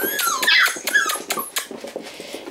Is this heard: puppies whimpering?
yes